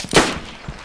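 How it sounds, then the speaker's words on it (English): A single sharp, loud gunshot cracks out in a video game, followed by a fading echo and a fainter second report. "Who's shooting from the hill"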